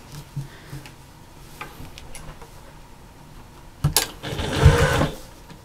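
A sewing machine top-stitches a slouchy fabric bag, giving soft scattered ticks and clicks at low level before a brief louder burst of running stitching near the end.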